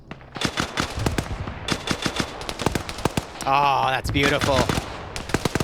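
Rapid gunfire bursts in a military shooter game, with sharp repeated shots and a sustained automatic stretch in the middle, heard close under a voice talking.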